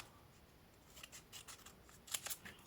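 Scissors snip through small paper strips for scrapbooking, several quiet crisp cuts in a quick run toward the end, faint and close in a quiet room.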